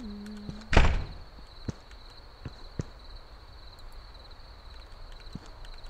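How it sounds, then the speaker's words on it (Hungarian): Door in the horror video game Evil Nun 2 shuts with one sharp, loud thud, followed by a few faint knocks and clicks over quiet ambient background. "Legalább csuknád be az ajtót."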